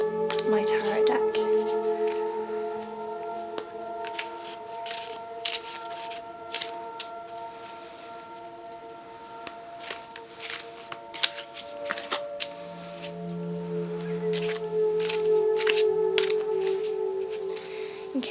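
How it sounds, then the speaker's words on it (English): Crisp riffling and snapping of a tarot card deck being shuffled in short bursts, close by, over a steady background hum. "I'm just going to shuffle my tarot deck."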